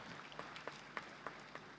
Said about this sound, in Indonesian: Marilah kita berikan tepuk tangan yang meriah kepada para teladan dan perwakilan Raja dan Sultan Nusantara.